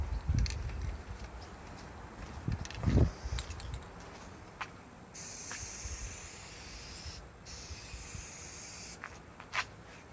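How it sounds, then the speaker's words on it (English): An aerosol spray paint can hisses in short bursts, then in a long steady spray, with faint knocks and handling sounds around it, painting a vent on a shuttle bus roof. "if you just keep spraying into your wet edge"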